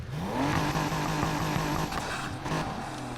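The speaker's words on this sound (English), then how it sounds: "Let's hear how it sounds." A BMW's engine revs in Need for Speed Heat, a loud, close tone climbing steeply and then holding a steady high drone with brief dips, with no speech.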